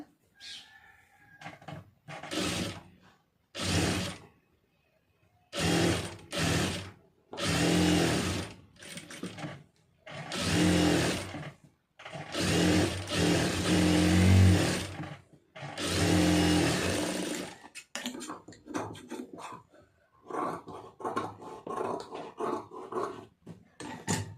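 A sewing machine stitches folded blouse lining fabric in repeated bursts of close, whirring motor noise lasting a second or two, separated by short pauses.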